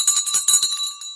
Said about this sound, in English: Oh, and guys, it's bell time.